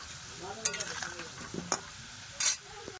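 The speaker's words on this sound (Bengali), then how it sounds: "যে মাংসের জন্য আলু কিন্তু ভাজা হয়ে গেছে," Potatoes frying in oil in a kadai for mutton curry, a low background sizzle broken by a few sharp clinks and scrapes of a utensil, close by, no voices.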